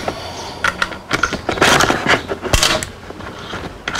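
Creaking, clicking mechanism sounds as the collet nut on a Tacklife variable-speed rotary tool is loosened while its locking button is held, a series of short close taps and scrapes.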